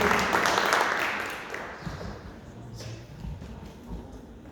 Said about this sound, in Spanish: un fuerte aplauso al Señor, mis hermanos, fuerte, fuerte